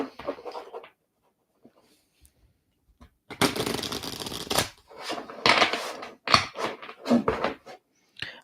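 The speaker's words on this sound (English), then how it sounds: "I'm going to shuffle this quite a bit, though. This is going to be a long shuffling time." A deck of tarot cards is riffle shuffled by hand, giving brief papery bursts of fluttering rattles separated by quiet pauses, close and fairly loud with no talk.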